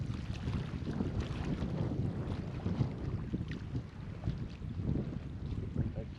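Wind buffeting loudly at a freshwater lake in Cyprus during winter roach fishing, a continuous low rumbling roar and gusty blustering with no talking.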